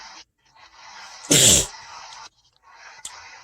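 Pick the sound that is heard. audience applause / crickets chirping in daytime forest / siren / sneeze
sneeze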